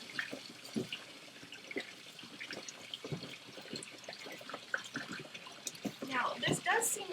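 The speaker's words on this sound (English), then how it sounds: "Now we're going to go ahead and fill up our bucket almost to the top with hot water." Hot water runs into a bucket being filled almost to the top for homemade laundry detergent, a steady splashing flow with intermittent stirring clatter and a voice talking over it.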